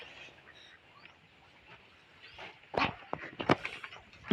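Ducks quacking in a loose cluster of harsh calls, growing louder and busier toward the end over a low outdoor background.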